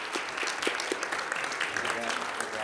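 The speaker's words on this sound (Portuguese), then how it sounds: "Mais uma salva de palmas para eles." A crowd at the final plenary of Brazil's Internet Forum bursts into applause, loud and dense with a few sharper nearby claps, while a voice briefly talks underneath toward the end.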